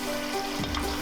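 Chicken pieces go into a hot pan with lemongrass and sizzle steadily up close, a continuous frying hiss with faint stirring.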